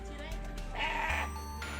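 Goats bleating as villagers carry them through floodwater during an evacuation in Gresik, a short, wavering bleat rising over the steady rumble of background noise.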